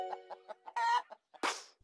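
A hen clucks in a short series of soft, rhythmic clucks, then gives a louder squawk and a sharp burst, close and clear.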